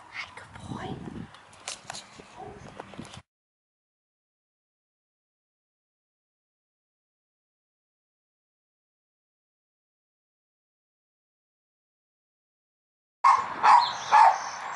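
A large dog barks excitedly in loud bursts, first for about three seconds amid mixed voices and later again after a long silent gap, with barking and talking overlapping at close range.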